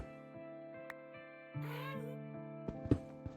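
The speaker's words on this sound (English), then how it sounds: "that's definitely cat noises, which is nice" A cat in the Minecraft video game gives a short, wavering meow over steady, tonal in-game music, followed by a few faint clicks.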